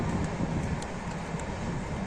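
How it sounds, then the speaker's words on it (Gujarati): A train passing at some distance out of sight, a steady low rumble and wind-like roar holding evenly throughout, with no talking over it. "ટ્રેન નીકળી અવાજ આવે દેખાતી નથી"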